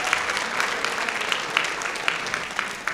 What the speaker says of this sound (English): One more round of applause for our parents and project graduation.